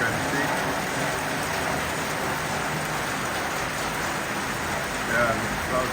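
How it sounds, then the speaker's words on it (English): Heavy rain falls steadily in a village, a dense continuous hiss of drops on surfaces at even loudness throughout, with no clear speech. "There's more rain dropping down,"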